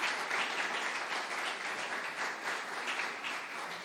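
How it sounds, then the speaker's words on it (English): Audience applause at the grand opening of a recovery center, a steady, dense wash of many hands clapping continuously throughout, fairly even in loudness with no talk over it. "Give yourselves a big round of applause."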